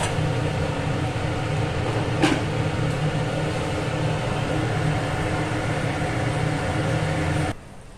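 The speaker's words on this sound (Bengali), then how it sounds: "ঝোলটা ফুটে উঠেছে।" Egg curry gravy bubbling in a pan, a steady sizzling simmer with a faint low hum underneath, one sharp clink partway through, and the sound cutting off abruptly near the end.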